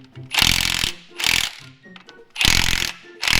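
An impact gun tightens lug nuts on an old Jeep to 80 foot-pounds, four loud close hammering bursts, each under a second long, separated by short quiet pauses.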